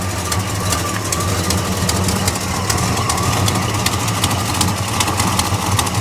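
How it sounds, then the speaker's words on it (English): Idling V8 of a 1969 Chevelle SS with an exhaust leak at the front header, a steady low rumble overlaid by rapid ticking puffs, close and loud, no talking. "Little exhaust leak, I think, coming from the header there at the front."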